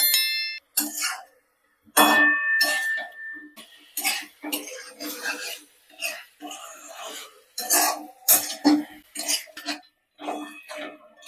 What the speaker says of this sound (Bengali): এইভাবে নাড়াচাড়া করে আমি আরো 3-4 মিনিট ঢাকা দিয়ে দিয়ে এই মশলাটাকে সুন্দরভাবে কষিয়ে নেব